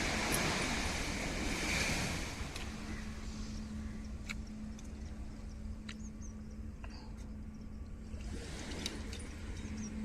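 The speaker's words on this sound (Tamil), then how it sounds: "இயற்கை காத்து கடற்கார ஓரம்" Surf and wind at a seashore, a steady broad wash of waves with gusty wind noise on the microphone throughout, swelling at the start and end, with a faint steady hum in the middle.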